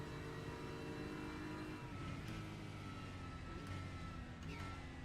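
A BMW DTM race car engine in the Raceroom sim racing game drones steadily with a gruff, somewhat diesel-like tone, holding a continuous pitch with slight rises, heard alone at moderate level without talk.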